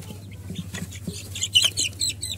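Five-day-old bantam chicks separated from their mother peep and cheep in quick, irregular bursts, the calls growing louder and more insistent toward the end over a low steady hum.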